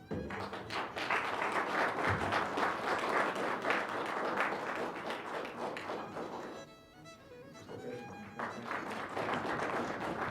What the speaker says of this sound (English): Ladies and gentlemen, can we have the applause?